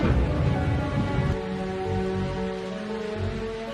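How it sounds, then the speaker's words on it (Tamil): Heavy rain pours down steadily around a castle during a storm. A dense, loud hiss carries a deep rumbling underneath, and no one speaks. "பேய் மழை பெய்து கொண்டிருந்தது."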